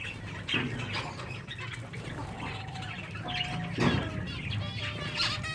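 Caged finches give scattered short chirps and tweets, near and moderately loud, over a busy background hum, with a brief flutter of wings.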